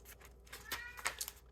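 A cat meows a few times in a quiet room, short faint mews that rise and fall, heard close but soft with no other sound.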